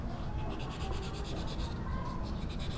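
Sanding with 1000-grit sandpaper while repacking a Raider Fi front suspension, giving quiet rhythmic scratchy strokes back and forth, soft and close over faint background noise.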